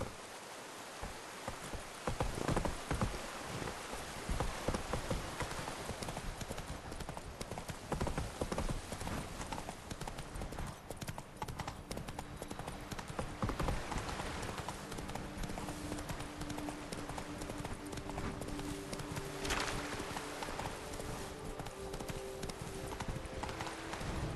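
The horse Roach gallops in The Witcher 3, hooves clip-clopping in a fast, steady rhythm throughout, loud and close, with a light rustling wash underneath.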